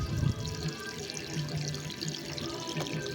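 Steady stream of water running and splashing continuously into a large potted bougainvillea to dissolve fertilizer, moderately quiet and close, with a low rumble underneath.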